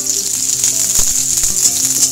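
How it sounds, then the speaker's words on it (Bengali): Vegetables for shukto fry in hot oil without turmeric or salt, giving a steady, close sizzle with faint clinks of utensils and no talk. "এগুলো কিন্তু বিনা হলুদ বিনা নুনেই ভাজছি"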